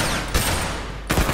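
Gunfire in the video game The Last of Us, dense loud rapid shots as a continuous burst with two sharper cracks standing out.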